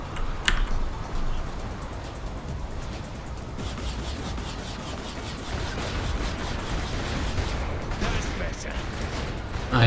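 Repeated sharp booms and cracks of cannon fire ring out in a battle in the video game Saints Row: The Third Remastered, with someone talking over the steady backdrop.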